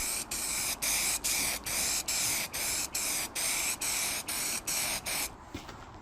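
An aerosol spray paint can hisses in repeated short bursts onto a rust repair on a Mercedes W208 in the cold, about a dozen close, loud, evenly spaced sprays before stopping.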